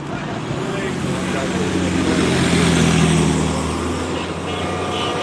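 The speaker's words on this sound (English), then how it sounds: "Here we got a bus coming through." A city bus rumbles past on a Saint Paul street during a protest, its engine and road noise loud and close, holding steady for several seconds over broadband traffic hiss.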